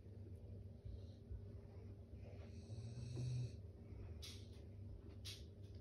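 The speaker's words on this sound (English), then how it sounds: "They're lovely, but snoring. He's snoring." A dog snores faintly in the background of a quiet indoor room, slow rasping breaths repeating steadily over several seconds with no talking.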